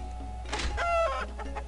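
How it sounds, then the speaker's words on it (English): Video game chicken clucking from inside a chest, a short burst of several squawky clucks heard alone and fairly close. "Chicken in the chest."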